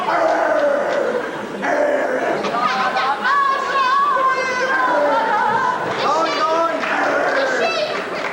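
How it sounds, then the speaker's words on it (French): Several dogs bark and howl close by amid a busy scene of children playing and people chattering, with voices overlapping the barking throughout. "Les chiens."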